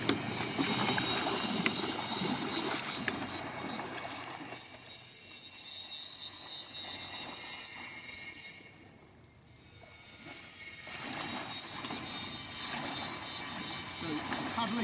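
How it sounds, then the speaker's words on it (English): Kayak paddled up and down on open water, with steady splashing and water movement close by that eases off midway and then builds again. "I'm just going to paddle up and down there."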